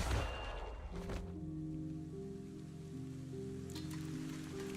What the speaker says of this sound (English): Suddenly rain.